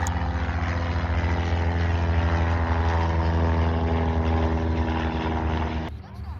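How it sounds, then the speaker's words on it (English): A privately owned Cessna 172 takes off at Jandakot Airport, its propeller engine droning loudly with a steady, buzzing tone that holds strong before dropping away abruptly near the end. "Here's a privately owned Cessna 172 taking off."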